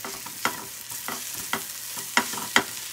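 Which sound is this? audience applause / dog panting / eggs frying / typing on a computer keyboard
eggs frying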